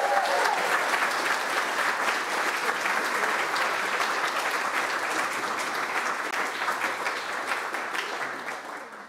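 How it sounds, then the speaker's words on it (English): Sustained applause rises from an audience at a botanical quiz event for two lead authors, a dense wash of clapping that holds steady and tapers slightly near the end. "So round of applause for Hannah and Seb, particularly as the lead authors on that paper."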